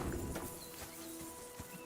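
Horse hooves clip-clop faintly along a rocky path in the medieval game Kingdom Come: Deliverance II, a soft, steady clatter of light taps beneath ambient outdoor sound with a bird chirping.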